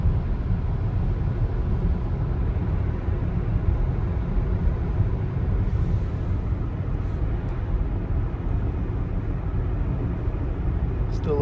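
Rivian electric vehicle driving on a highway through snow flurries, a steady, loud low road and tire roar with wind noise that stays constant, with no speech.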